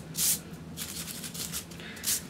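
A sponge dabs blue paint onto a surface for a faux distressed country-craft finish: a few soft, close rubbing and swishing strokes, faint and without talking.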